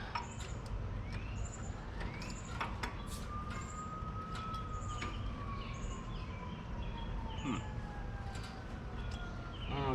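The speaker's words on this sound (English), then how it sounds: "we've got what I believe to be an ambulance going across." Ambulance siren passing in the distance, a faint wailing tone that slowly rises and falls over a steady outdoor rumble, with bird chirps scattered throughout and no talk.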